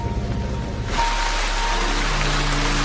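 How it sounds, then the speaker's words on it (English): Heavy rain in a horror film: a steady broadband downpour that swells sharply about a second in and then holds loud and constant, with a low rumble beneath it and no voices. "walking through heavy rain as thunder rumbles"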